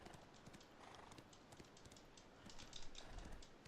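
Horse hooves clip-clopping in the Black Desert video game, quick faint taps in a loose rhythm, soft and low in level, with no talking.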